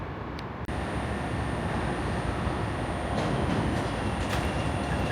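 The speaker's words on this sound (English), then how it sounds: "Just got off the train." Steady, loud rumble and roar of a Chicago train in motion, a dense continuous rail noise heard from inside with a brief click near the start.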